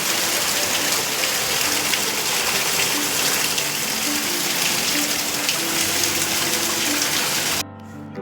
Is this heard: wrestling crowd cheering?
no